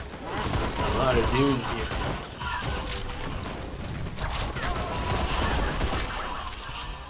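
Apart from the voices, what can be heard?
gunfire and explosives in video game Raiders of the Broken Planet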